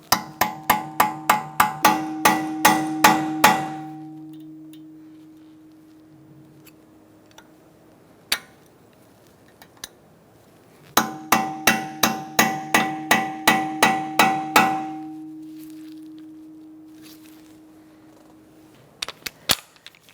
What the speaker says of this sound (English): We're going to unping our axle nut using a punch and a hammer.